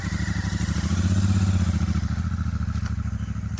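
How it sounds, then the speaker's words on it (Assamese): A heavy, expensive Royal Enfield motorcycle engine runs close by with a steady, rapid thumping beat. It swells slightly partway through, then settles back to an even idle-like chug, with no talk over it. "এইখন বাইক মানে ৰয়েল এনফিল্ডৰ চবচে এক্সপেঞ্চিভ বাইক"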